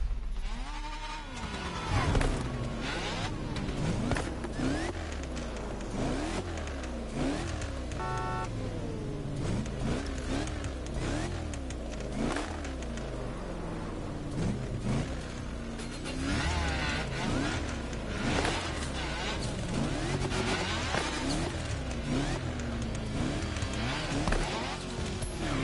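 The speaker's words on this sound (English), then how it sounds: "this is probably the largest rally car in the entirety of this game" Rally car in The Crew Motorfest racing game, its engine revving and rising in steady waves throughout, loud and close, with a voice talking over it.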